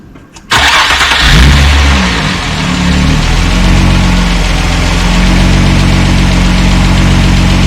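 A 2003 Nissan Cefiro A33 engine cranking and starting with a sudden loud burst, revving briefly, then settling into a steady, close idle, no talk.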